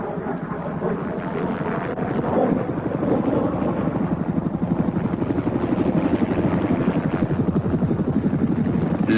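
A military assault helicopter flies past with a continuous heavy rotor thrum and engine whine, a rapid chopping pulse holding steady and loud for several seconds with no voices.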